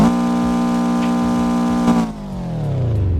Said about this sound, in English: Let's check the horizontal 4 engine.